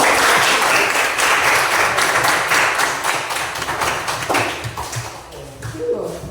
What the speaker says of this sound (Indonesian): Iya, tepuk tangan.